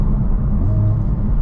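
A 2023 UK Honda Civic Type R engine droning steadily while driving at night, a loud, dense low rumble that stays constant and close throughout, with no talk.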